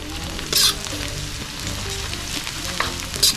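Chopped garlic sizzles and fries steadily in a hot pan, with a couple of louder stirring scrapes breaking through the continuous crackle, heard up close with no talking.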